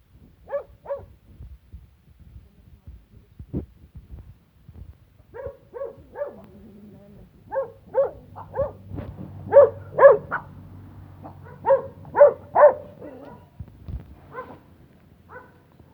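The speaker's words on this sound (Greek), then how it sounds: "Να το σκυλί της εκεί πέρα το μαύρο." A black village dog barking outdoors, in scattered bursts of sharp barks growing louder and more frequent, moderately near, with soft low background noise between them.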